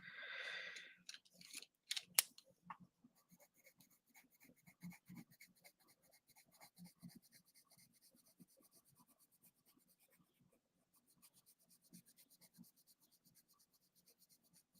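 Coloured pencil strokes on paper, laying down a darker shade on a chilli drawing: close, soft scratchy scribbling in quick repeated bursts, a louder rub near the start, then steady light scratching throughout with no talk.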